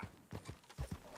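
Hooves of a horse clip-clop in Red Dead Redemption II, a handful of soft, quick, uneven thuds close by at low volume.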